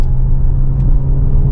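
A 2024 VW Tiguan R-Line SUV engine pulls hard under acceleration, a loud, close, steady low rumble with a brief higher whoosh partway through and no voices.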